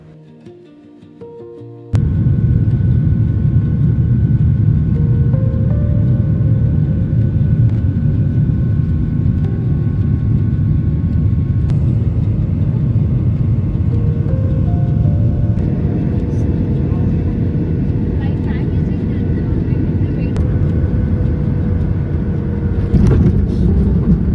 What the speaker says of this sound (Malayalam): അങ്ങനെ നമ്മുടെ ഫ്ലൈറ്റ് ടേക്ക് ഓഫ് ചെയ്യാൻ സ്റ്റാർട്ട് ചെയ്തു.